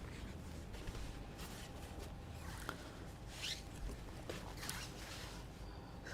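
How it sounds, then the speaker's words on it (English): A square of dyeing fabric, 18 by 24 inches, is opened out to full width for itajime shibori folding, giving soft, close, intermittent rustles and light handling noises with no talking. "I'm going to go ahead and open this fabric out to the full width"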